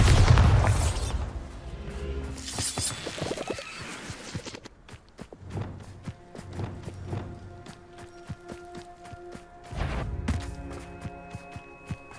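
A Bombarda spell explosion in Hogwarts Legacy, a loud boom with a bright crackling burst at the start, followed by scattered thuds, footsteps and a second swell of impact later.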